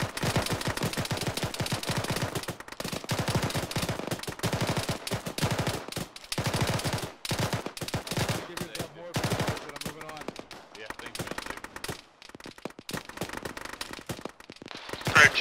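Sustained gunfire in a military shooter game, dense crackling volleys of rifle and machine-gun fire that run almost continuously with brief lulls, loud and close, with faint voices underneath.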